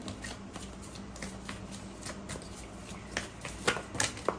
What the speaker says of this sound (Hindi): I have to shuffle again.